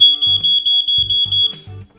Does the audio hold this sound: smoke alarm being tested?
yes